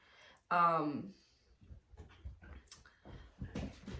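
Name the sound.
dogs whimpering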